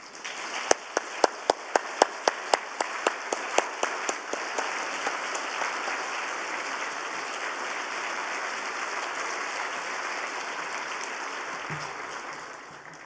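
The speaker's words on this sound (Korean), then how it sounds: "나오실 때 우리 뜨거운 박수로 맞이하겠습니다" A congregation at a Wednesday church service applauds to welcome a guest pastor, opening with a rhythmic run of sharp unison claps that dissolve into a sustained, hissing wash of many hands.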